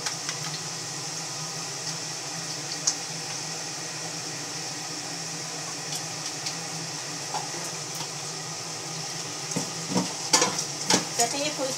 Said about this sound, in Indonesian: Ini telurnya mau digoreng ya.